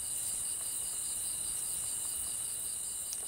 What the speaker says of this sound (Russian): Появляется сверчок, ведущий ночной образ жизни.